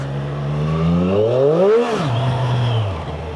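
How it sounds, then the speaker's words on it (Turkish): A motorcycle brakes hard on a rough, worn road with a worn tyre. The engine note climbs, then falls sharply as the bike slows, settling into a low steady drone, loud and close with no talking. "şurada bir frenleme yapayım"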